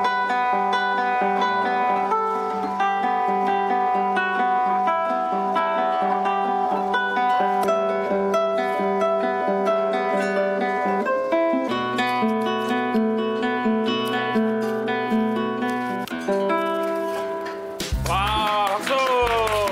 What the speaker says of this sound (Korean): 제가 클래식 기타를 좀 치거든요